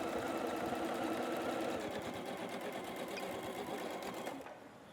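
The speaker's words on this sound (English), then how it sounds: "we're going to sew 1/4 of an inch on the two long sides" A sewing machine running steadily as it stitches fabric seams for a quilted trucker hat, a fast even rattling whir heard up close that stops abruptly near the end.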